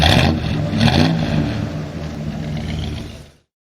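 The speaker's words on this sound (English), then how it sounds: "Monster truck." A monster truck engine roars and revs in a few heavy surges, loud and close with a deep rumble, then cuts off abruptly.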